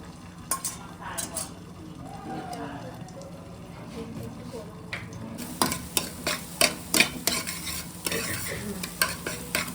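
A salted egg being scrambled and fried in a hot kadai produces a continuous sizzle with rhythmic scraping stirs that grow louder and quicker in the second half, while people talk faintly in the background.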